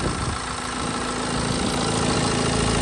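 A 2013 Mini One D diesel engine idles steadily under the bonnet, a loud, even, continuous mechanical drone with no voices over it.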